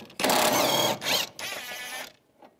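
Socket ratchet with an 18mm socket loosening a nut on a 2006-2011 Cadillac DTS while the serpentine belt tensioner is being replaced: close, loud bursts of fast ratcheting clicks in three runs, then quiet, with no talking.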